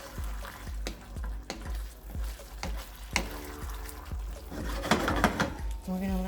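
A quick gravy for shepherd's pie cooking in a pan, with soft sizzling under repeated clinks and scrapes of a spoon stirring, while a person talks over it.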